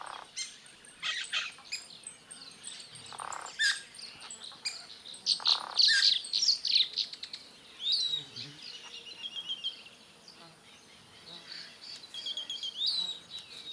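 Sheshu, or japuira, birds call in the Amazon rainforest: bright, fluttering chirps and whistled notes arrive in scattered bursts at moderate distance over a soft insect hum, with no talking.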